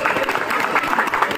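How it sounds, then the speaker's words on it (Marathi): At a housing society's cricket league final, the audience claps in a steady, dense burst of applause that is loud and close, with faint crowd murmur underneath. "टाळ्या वाजवा"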